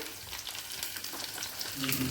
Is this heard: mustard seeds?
yes